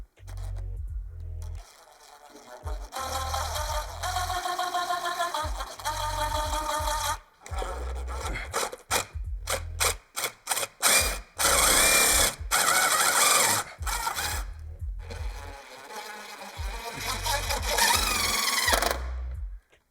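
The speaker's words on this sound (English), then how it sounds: "We found the long bit. So we'll get these screws out" Cordless drill fitted with a long bit backing screws out of window shade hardware, loud whirring bursts in several runs separated by short pauses, near and close up.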